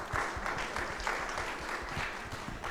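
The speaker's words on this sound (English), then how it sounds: "And another round of applause for all of you, please." An audience applauds a panel at a journalism conference discussion, steady moderate clapping from a mid-sized crowd lasting a few seconds.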